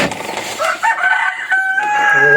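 Backyard chickens clucking close by while a rooster crows, its long drawn-out call rising over the flock's busy chatter, loud and near.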